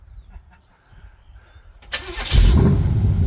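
Car engine cranking and catching after repair work, a sharp starter burst followed by a loud rough rumble settling into a strong running idle, close and alone after quiet background.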